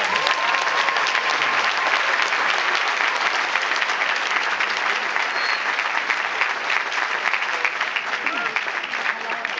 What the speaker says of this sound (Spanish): un fuerte aplauso a Love Me Do,